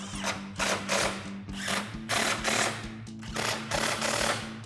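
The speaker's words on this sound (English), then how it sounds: "grab a 13mm socket and tighten all these down" A power tool fitted with a 13mm socket runs bolts down while a bull bar with skid plate is installed on a RAM 1500 pickup truck. It whirs and buzzes in repeated bursts of about a second each, loud and close.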